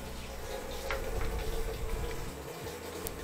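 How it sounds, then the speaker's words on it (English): Cold water rushes steadily through the fill valve of a Whirlpool Cabrio WTW80 top-load washer running diagnostic mode, a continuous close hiss of flowing water into the drum with faint clunks. "You should hear the cold water come out."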